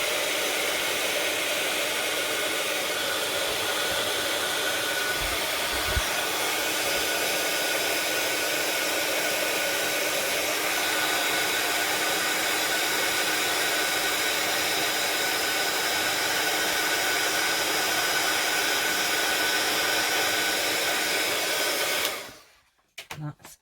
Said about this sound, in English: then we're just going to bring in the heat gun, my heat tool